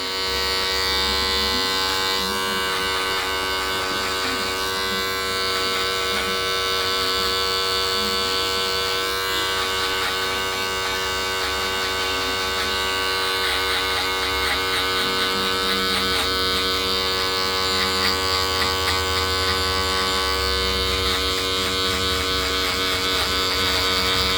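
Barber's electric clippers cutting a low fade, a loud, steady close-up buzz with a bright whine, running continuously, the tone shifting slightly as the blades move through hair.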